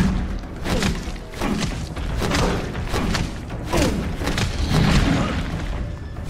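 Right-jab punches landing on a monster in Resident Evil 7, dull heavy thuds repeating every second or so amid crunchy impact noise, loud and close, with no voices.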